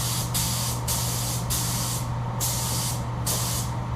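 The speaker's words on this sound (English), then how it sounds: "now I'm spraying my super chrome on it" Super chrome paint sprayed from a spray gun onto a part, with repeated loud hissing bursts in a steady rhythm over a constant low machine hum from an extractor fan.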